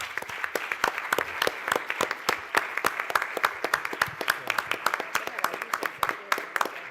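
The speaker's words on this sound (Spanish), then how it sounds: "Un aplauso." Rhythmic audience applause at the close of a public lecture on carnival in Montevideo, crisp individual claps repeating steadily and fairly close, with a few voices underneath.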